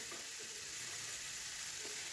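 Onions with ginger-garlic paste frying in a pan for a spicy pickled eggplant dish: a soft, steady sizzle with faint crackles throughout, fairly quiet and close.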